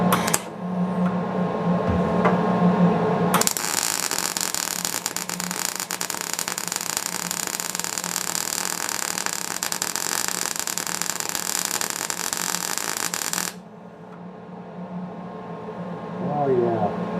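An Eastwood welder laying a weld after a repair, a loud, steady crackling hiss that runs unbroken for about ten seconds before cutting off sharply, with quieter shop noise before and after.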